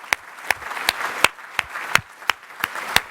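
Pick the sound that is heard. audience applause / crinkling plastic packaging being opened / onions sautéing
audience applause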